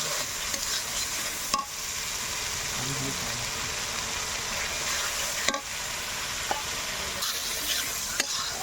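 Chicken masala frying in a pan with almond paste and tomato, stirred steadily under a constant loud sizzle, with a few sharp spoon scrapes and knocks against the pan.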